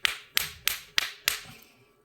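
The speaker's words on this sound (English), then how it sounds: "I had to use a wooden hammer to get this in." A wooden hammer knocks a press-fit pin into a door mod on a Voron 2.4 3D printer, giving five sharp, evenly spaced close taps with short decays.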